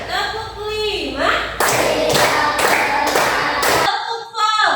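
Schoolchildren in a classroom clap in unison in a counted routine, a run of sharp, loud group claps in quick even rhythm following a teacher's voice, then stopping abruptly.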